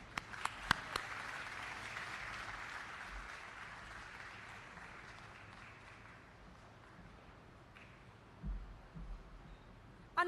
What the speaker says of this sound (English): Another round of applause for our general manager